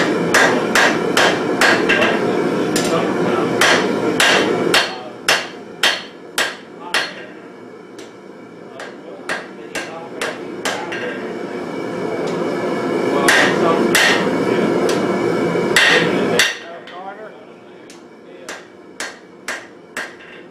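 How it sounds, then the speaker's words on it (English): Hot steel is hammered on an anvil while a filing vise is forged at a blacksmithing gathering, sharp ringing blows coming in quick runs and slower single strikes over a steady roaring background, with no talk. "I was going to wait till you finish hammering."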